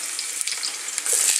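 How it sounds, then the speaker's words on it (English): Close, bright sizzling of onions frying in a hot pan, crackling steadily with small pops, no voices. "But hear that sizzle when you cook."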